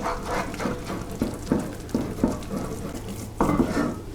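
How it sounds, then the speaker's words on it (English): Choux pastry dough is worked in a pan with a wooden spoon, producing a series of soft, regular thuds and scrapes at roughly half-second intervals, close and moderately loud, with no talking. "we just need to work this in with a wooden spoon so there are no lumps and everything is nicely mixed together"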